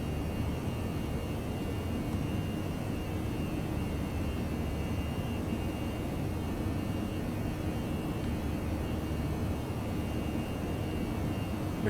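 Airbus airliner engines in flight simulator X-Plane 11 climbing after departure, a steady broadband roar that holds even and unbroken throughout with no voices.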